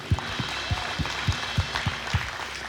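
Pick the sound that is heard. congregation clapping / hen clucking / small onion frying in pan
congregation clapping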